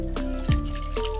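Leftover water from partly cooked beef is poured into a karahi pot, giving a brief close splash and liquid trickle over a steady background hum.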